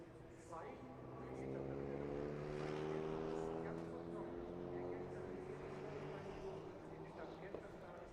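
Prototype race car engines fire up in the Nürburgring pit lane during a Prototype Cup Germany qualifying session, a rising, droning engine note heard from a distance beneath a commentator's talk.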